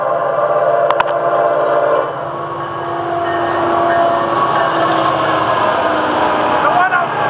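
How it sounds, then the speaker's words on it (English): Florida East Coast Railway train FEC101 rolls past on an evening run, a steady loud rumble of wagons and engine with a sustained tonal hum, close and continuous throughout. "a very special train this evening"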